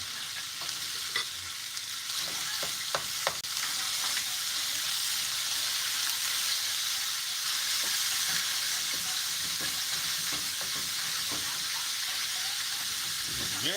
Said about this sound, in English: You can do this in a smaller pan with a smaller amount of meat, Rich.